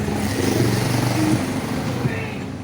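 Busy Saturday street traffic in central Ejido, Mérida, Venezuela, with motorcycles and cars passing close by, a steady roar of engines and some revving and clatter throughout.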